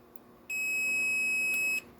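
A digital multimeter in diode test mode gives a single steady high-pitched continuity beep, held for just over a second, close and clear over quiet background while testing an air conditioner circuit board.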